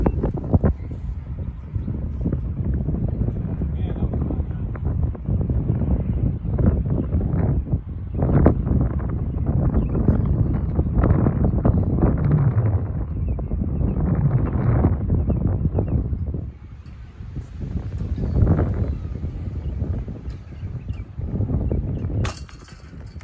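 Gusty wind buffets the microphone on an open disc golf course, a continuous low rumbling roar that surges and eases for over twenty seconds, with a faint clink near the end.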